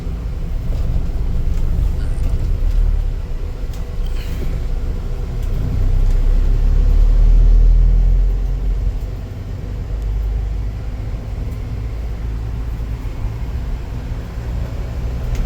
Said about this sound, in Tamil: இந்த சவுண்டு என்ஜின் சவுண்டு அருமையாக இருக்குது